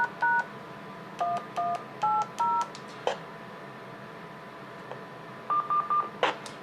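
DTMF keypad tones keying a command into a ham radio simplex repeater controller, a string of short beeps in quick pairs, a pause, then a final burst of rapid tones, with faint clicks and no talk.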